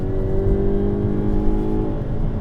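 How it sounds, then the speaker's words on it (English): A 2022 Hyundai Kona N compact SUV's exhaust burbles and revs close by with a steady, throaty drone, loud and continuous with no talking over it. "Love that burbling exhaust."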